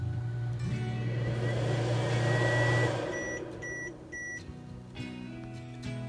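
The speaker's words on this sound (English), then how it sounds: "as I turn the microwave on" A microwave oven powered through an inverter from an eBike battery starts up with a steady low hum, then cuts out and gives a few short electronic beeps.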